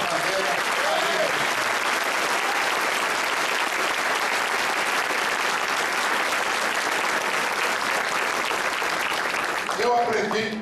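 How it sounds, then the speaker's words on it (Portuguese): A crowd at a political party meeting gives candidates a sustained ovation: steady, loud, dense clapping from many hands that continues unbroken for about ten seconds before fading, with faint voices underneath. "Eu quero uma sonora salva de palmas aos nossos bravos candidatos"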